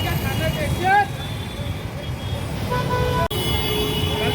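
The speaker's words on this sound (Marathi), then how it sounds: "एवढी ट्रॅफिक असते भिवंडीला नेहमी" Busy road traffic at the Bhiwandi bus stand, with car and bus horns tooting over a steady rumble of engines, close and continuous, with people talking in the background.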